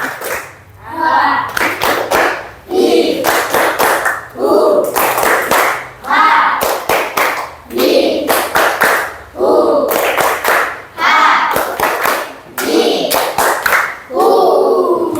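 Classroom group of children plays the tepuk 3 clapping game, chanting ha, hi, hu in turns, each chant followed by a quick burst of sharp unison claps, repeating rhythmically in loud close cycles.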